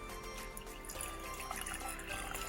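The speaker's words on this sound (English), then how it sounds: "So first step, let's put this cold water." Cold water is poured into a container to start a homemade volcano eruption project, making a steady close trickling and splashing stream that runs the whole time with no talking.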